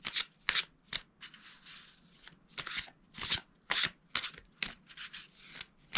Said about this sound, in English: So shuffle them all up now. Twist them round. Shuffle them again.